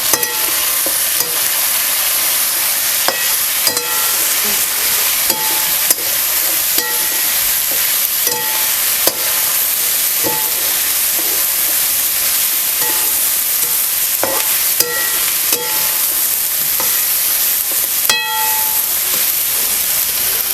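Onion-garlic masala frying for vegetable biryani is stirred in a pan: a loud, dense sizzle broken by repeated sharp metallic clinks and scrapes of the spoon against the vessel, with no talking.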